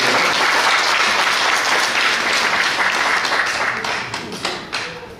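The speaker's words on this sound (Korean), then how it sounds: "박수 한번 주세요." A church congregation applauds steadily during a Sunday afternoon service, dense clapping at full strength that gradually thins and tapers toward the end.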